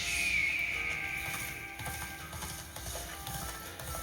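Horse hooves clip-clopping at a steady walking rhythm in the video game Dynasty Warriors Origins, moderately close with faint game ambience beneath.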